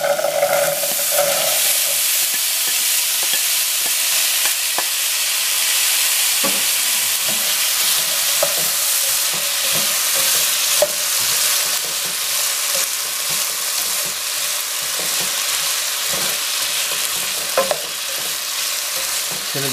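Potato pieces frying in hot oil, a loud, continuous crackling sizzle broken by frequent scraping and clattering as a utensil stirs them around the pan.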